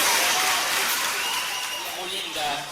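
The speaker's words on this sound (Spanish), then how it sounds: "Un fuerte aplauso para nuestro primer campeón." Loud sustained applause from the audience for the first champion at a bodybuilding and fitness championship in Extremadura, a dense hiss of clapping that swells, eases slightly and swells again, with voices underneath.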